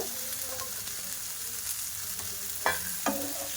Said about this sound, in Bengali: দিয়ে ভাজা করে নেব আলুর সঙ্গে